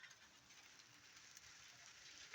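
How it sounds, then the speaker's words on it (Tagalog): Rain beginning to fall outdoors near kikar trees, with light raindrops pattering in a faint, even hiss and one sharper drip near the end, with no talking. "Yan, may ulan na. Patak na ng ulan."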